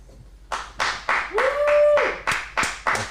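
Live audience at an adult script event clapping in repeated short bursts of applause, close and fairly loud, alongside a sustained tonal sound.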